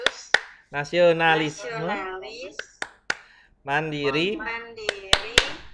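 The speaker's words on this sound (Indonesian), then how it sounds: "Ayo teman-teman, kita tepuk PPK" Group hand clapping during a classroom peer-teaching cheer, with sharp claps in short clusters between chanted words from the group.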